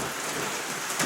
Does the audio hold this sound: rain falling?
yes